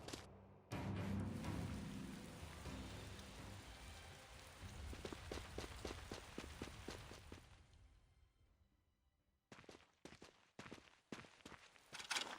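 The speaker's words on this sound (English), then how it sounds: "Oh, and now it's raining!" Steady rain pouring in the video game Tales of Xillia, a soft continuous patter that fades out, followed by a few scattered footsteps-like taps near the end.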